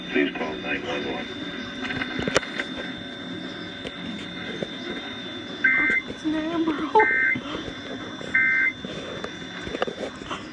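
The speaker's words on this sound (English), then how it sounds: "that was an official Amber Alert from State Police" An Emergency Alert System Amber Alert radio broadcast from State Police, with three short, sharp electronic tone bursts spaced a second or so apart over a low background hum.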